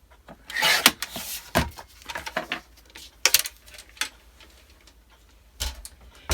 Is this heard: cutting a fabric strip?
yes